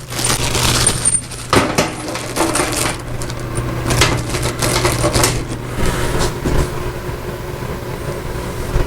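Metal bolts being rummaged through in a shop, with dense clinking and jangling of loose hardware, close and loud, continuous with sharper clanks scattered throughout over a low steady hum.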